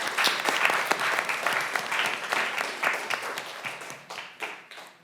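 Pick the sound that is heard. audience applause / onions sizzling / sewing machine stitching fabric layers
audience applause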